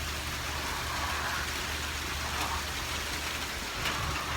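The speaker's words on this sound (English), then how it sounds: "now it's starting to rain harder." Rain pours steadily during a small thunderstorm outdoors, a dense constant hiss of drops hitting surfaces with no breaks and no talk.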